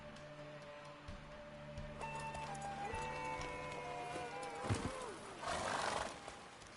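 The horse Roach neighs in The Witcher 3 game, a long wavering whinny over ambient game music and background noise, followed by a snort and a burst of rustling.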